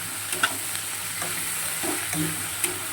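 Vegetables fry in a pan until browned, giving off a continuous hiss of sizzling oil. A few soft knocks of stirring break in briefly over the steady frying.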